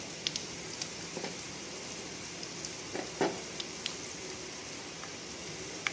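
Curry leaves, cumin seeds and black pepper sizzle softly in hot oil in a pan, a steady low crackle broken by a few sharp pops and spits, heard alone without any voices.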